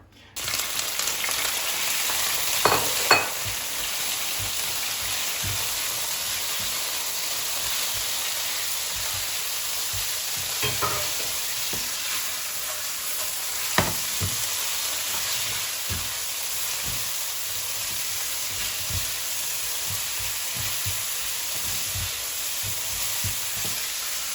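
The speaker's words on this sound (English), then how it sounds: "Get it nice and hot, and the beef will go in." Beef stir-frying in a generous amount of hot oil in a pan gives a steady, loud sizzle that runs unbroken throughout, with a few brief clatters and pops rising above it and no voices.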